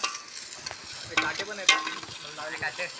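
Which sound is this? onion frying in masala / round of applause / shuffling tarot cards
onion frying in masala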